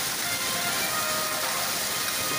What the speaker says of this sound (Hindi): जमीन पर बहुत ज़बरदस्त ओले हैं।